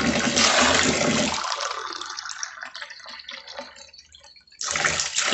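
Water from a sediment filter rushing strongly, a loud broad gush that eases to a thinner trickling flow before surging loudly again near the end, close by with no talk.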